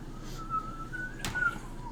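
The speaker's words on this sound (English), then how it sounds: "Are you whistling Ragnar the Red?" A person whistles a short melodic tune, the folk song Ragnar the Red, in a single wavering line over a quiet room, with a brief sharp knock partway through.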